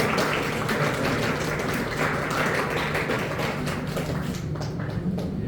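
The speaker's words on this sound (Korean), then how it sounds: "우리 박수로서 그런 말씀을 김현철 목사님 모시고 가겠습니다." A church audience at a Korean seminar claps continuously, a dense, even wash of applause that stays loud and steady throughout, with no voices over it.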